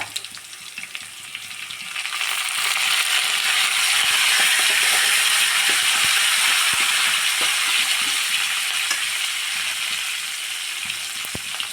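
Cumin seeds and curry leaves splutter in hot oil in a pan, a dense loud crackling sizzle that swells after the first two seconds and holds steady, with scattered sharp pops and no voices.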